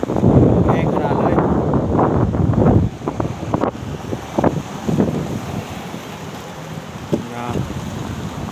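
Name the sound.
wind blowing into microphone outdoors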